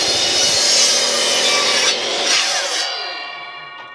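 A handsaw cuts through a wooden block at an angle, a loud, close, rasping stroke that runs on for a few seconds before fading as the cut finishes, with no talking.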